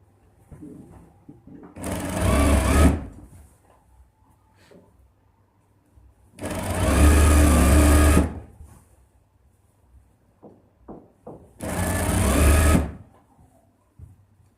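A sewing machine stitching a ladies suit runs in three separate loud bursts of about two seconds each, with quiet pauses and faint handling clicks between them.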